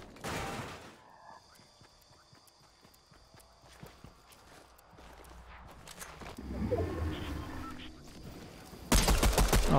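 A pistol fires in a video game as quick, sharp cracks among scattered clattering and footsteps, closing with a louder burst of shots.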